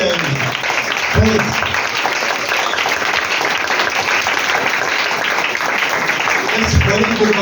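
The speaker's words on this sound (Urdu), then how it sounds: "اس کی قربانی کے لیے زوردار تالی بجائیں گے۔" A church congregation claps loudly and steadily during an Urdu/Hindi sermon, a dense, continuous wash of applause that fills the whole stretch, with brief low voices or cheers rising near the start and end.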